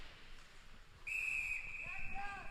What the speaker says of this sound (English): we're gonna get a whistle here with 1:15 remaining in the second